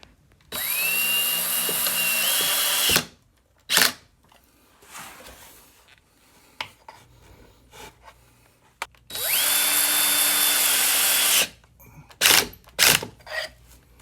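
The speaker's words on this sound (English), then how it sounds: "So with the screws in place, I went ahead and just screwed them in and tightened it down." Power drill driving screws into a tabletop, two long, loud whirring runs of about two and a half seconds each, with quieter handling clicks and knocks between them and a few sharp knocks at the end.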